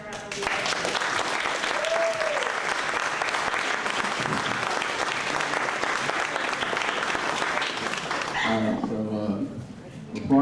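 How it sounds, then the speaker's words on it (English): Audience at a community event giving another round of applause, sustained thick clapping for several seconds, with a voice coming in faintly as the clapping dies away at the end. "Could you give them another round of applause?"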